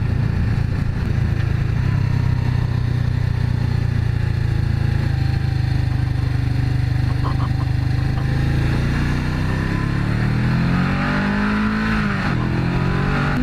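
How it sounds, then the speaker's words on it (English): On a racetrack, car engines drone steadily at a distance. The sound is a continuous loud hum whose pitch sweeps up and down near the end as a car passes. "today there's people racing"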